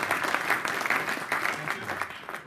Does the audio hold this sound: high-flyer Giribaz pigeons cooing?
no